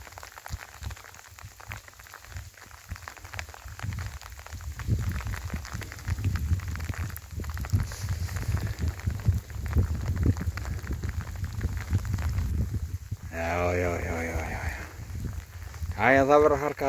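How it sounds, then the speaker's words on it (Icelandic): Rain falls on an island during puffin hunting, a soft steady patter and hiss building in intensity, with voices talking briefly near the end. "Það kom bara rigning."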